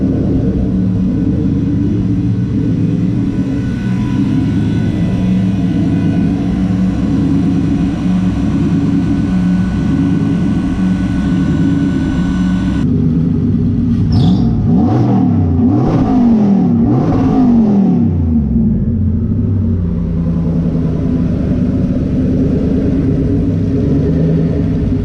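A turbocharged car engine drones loud and close for a long stretch, then revs up and down in a few quick rising and falling sweeps, with a brief high whistle, before settling back to a steady idle, with no voices.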